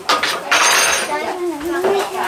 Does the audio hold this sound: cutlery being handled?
yes